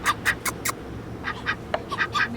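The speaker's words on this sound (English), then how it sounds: "Hey duckies! Hey little ducks!" Several ducks quack in quick, uneven bursts nearby, a scattered series of nasal calls over faint background noise.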